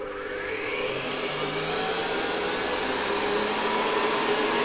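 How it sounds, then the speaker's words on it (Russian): An electric mixer whips marshmallow mixture for a sunflower-shaped confection, a loud steady motor whine with rising pitch that holds for several seconds. "я включаю миксер, у меня будет немножко шумно"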